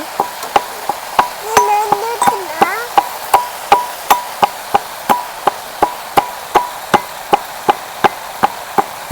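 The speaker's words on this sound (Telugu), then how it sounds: "ఏం దంచుతుంది మీ అక్క? ఏంటి అది? ఎల్లిపాయ." Garlic pounded in a mortar for a ladyfinger fry, sharp regular thuds about twice per second, close and loud, with a brief voice and clatter early on.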